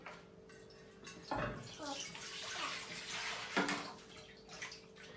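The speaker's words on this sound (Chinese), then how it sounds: "先把鸡肉洗一下。" Chicken pieces are washed under running water in a rural home kitchen, a steady splashing stream with a few louder splashes and gurgles, close by, with no talk over it.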